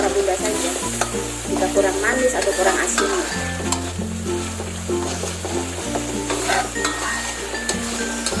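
A spoon stirs cassava leaf gulai in a pan over a steady, dense sizzle of frying, with scraping stir strokes and a low continuous hum underneath, no talking.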